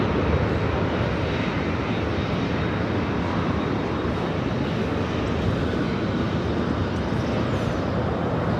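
A Delta Air Lines A320 arriving from San Francisco makes a dense, steady jet rumble that holds at an even, fairly loud level for the whole stretch, with no break or clear approach and fade.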